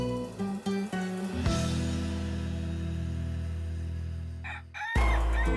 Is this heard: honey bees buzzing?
no